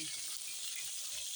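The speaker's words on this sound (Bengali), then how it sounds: "মাছ ভেজে নিচ্ছি" Fish frying in oil in a pan on a home stove, a steady soft hiss of bubbling oil that continues evenly throughout, faint and unbroken.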